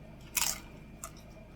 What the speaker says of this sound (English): Look at the crunch of it.